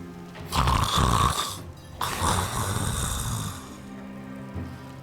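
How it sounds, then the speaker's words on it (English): Lorath, an old man in Diablo 4, snores while napping in a muddy pigsty, two loud rasping breaths close by with a quieter low rumble between them, over a faint steady background hiss. "a snoring Lorath naps in a muddy pigsty"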